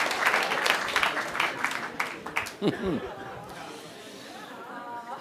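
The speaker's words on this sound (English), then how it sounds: "Applaud yourselves." Comedy club crowd at the Laugh Factory clapping loudly, dense applause that fades after a few seconds into chatter and light chuckles, with a voice talking in the middle.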